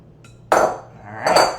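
A spoon works wet ingredients into dry ones for a thick maple pumpkin breakfast cookie batter in a bowl, giving two close, scraping, clinking bursts of stirring against the bowl with a short pause between them.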